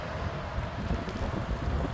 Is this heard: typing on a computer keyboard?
no